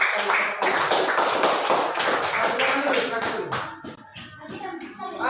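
Classroom applause for a student group that has just presented: many pupils clapping close by in a dense, uneven patter, with voices talking over it as it fades slightly toward the end.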